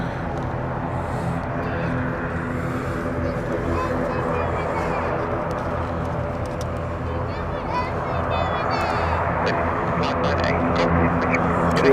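An Avianca ATR turboprop airliner drones with a steady low engine hum at moderate distance, swelling slightly toward the end, while a person chats over it throughout.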